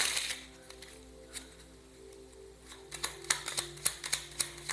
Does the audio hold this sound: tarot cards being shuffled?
yes